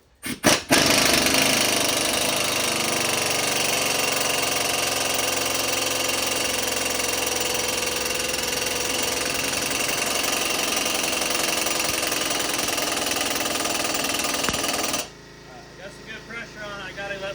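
A compressor-powered air impact tool hammering on a ball joint of a 2002-2005 GMC Envoy or Chevrolet Trailblazer, a loud sustained rattling burst for about fourteen seconds before cutting off to quieter background sounds.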